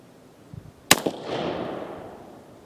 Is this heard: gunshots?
yes